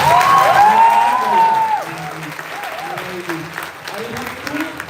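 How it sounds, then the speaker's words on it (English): A school debate audience at the 78th Inter-Martiniere Debate claps loudly for the Lucknow team: dense, sustained applause with a few voices and cheering mixed in, loud and close throughout. "Okay, audience, I want a loud clapping for the Lucknow team as well."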